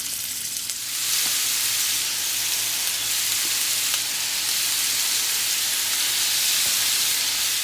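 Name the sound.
stew beef frying in coconut oil in a pan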